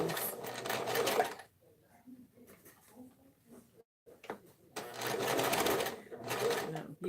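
A sewing machine stitching a tote bag seam, running in two loud bursts at the start and end with a quieter stretch of talking in between.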